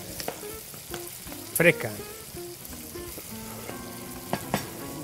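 Fresh vegetables for a traditional sofrito fry in a pan in steady sizzling, with stirring clatter and a few sharper spikes. A brief voice is heard.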